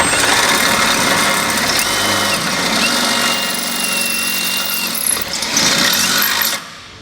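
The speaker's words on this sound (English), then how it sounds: "So using a 3/8 drill bit, just going to come in from the bottom" A drill with a 3/8 bit enlarges a bolt hole from below while a Blue Ox base plate is fitted to a 2018 Ford Edge, whining steadily and loudly for several seconds, its pitch shifting slightly before it cuts off.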